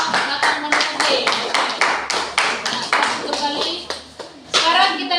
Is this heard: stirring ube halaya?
no